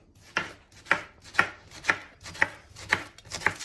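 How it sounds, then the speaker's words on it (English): A knife chops an onion on a cutting board in seven steady, evenly spaced strokes about half a second apart, each a crisp close thunk with no talking. "1 onion, about that big, chop it small"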